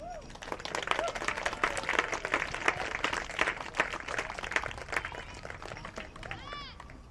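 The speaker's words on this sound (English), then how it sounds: "please give a round of applause for" A crowd at an outdoor men's masters soccer cup final claps for the silver medalists in a steady round of applause, fairly distant, with a few cheers and whistles mixed in.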